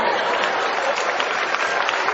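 Audience applause at a live comedy show, a steady dense wash of clapping hands, loud and continuous throughout, with no words spoken.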